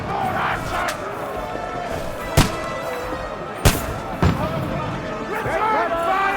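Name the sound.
gunfire in video game Kingdom Come: Deliverance II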